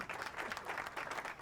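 Light, brief applause from a cultural-program audience, a soft patter of clapping hands at modest volume with a slight swell and dip.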